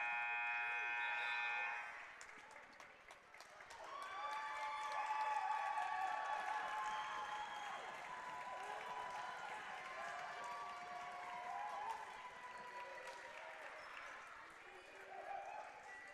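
A crowd at a high school basketball game cheers and claps, with sustained bursts of applause and shouting rising and fading over several seconds, under a busy gym atmosphere.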